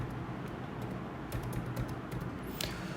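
Typing on a computer keyboard at close range, a steady run of light key taps over a low background hum, with a few sharper clicks toward the end.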